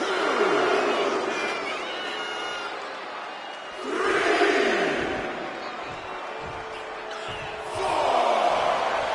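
Arena crowd at a WWE NXT wrestling show cheering and roaring, swelling in loud waves around the 4 and 8 second marks with continuous crowd noise in between and no commentary heard.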